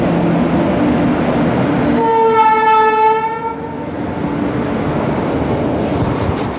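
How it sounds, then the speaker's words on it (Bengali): A train at a railway platform sounds a loud horn with rich stacked harmonics for about a second, set against the steady heavy rumble of the approaching train and station ambience, with no talk. "বেলডাঙ্গা ট্রেন আসবে 2 নম্বর প্ল্যাটফর্মে"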